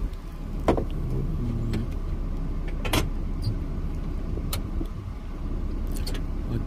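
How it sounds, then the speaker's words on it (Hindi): Interior of a car just after getting in on a windy day: a steady low rumble with a few sharp clicks and knocks, likely doors or fittings, close and fairly loud, with no talking. "अभी हम बैठ गए हैं गाड़ी में।"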